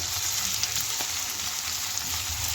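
Onions and curry leaves fry in a pan for chutney, giving a dense, steady sizzle that stays loud and close with no pauses and no talking.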